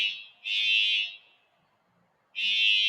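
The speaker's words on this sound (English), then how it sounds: "Do you need to do anything on your end with that alarm going off" A loud electronic alarm, probably a test, sounds in two long steady tonal bursts of about half a second to a second each, with a quiet gap between them and no talking.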